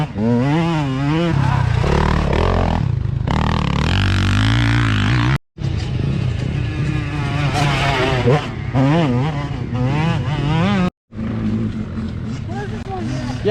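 Motocross dirt bike accelerating hard through a muddy corner, close and loud, its engine note climbing in repeated revving sweeps, cut twice by brief drops, while a voice shouts over it.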